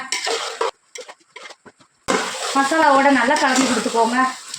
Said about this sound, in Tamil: சிக்கனை சேர்த்துட்டு நல்லா மசாலாவோட நல்லா கலந்து கொடுத்துக்கோங்க